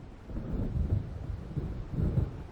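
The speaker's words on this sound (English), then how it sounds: "It seems there's a storm coming." Low thunder from an approaching storm in the video game Alan Wake rolls in two soft, distant swells, with a faint hiss of rain underneath.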